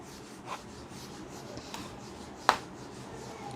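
A drawing gets rubbed off a board during a maths class, heard as soft scratchy rubbing strokes broken by a few brief taps and one sharp knock.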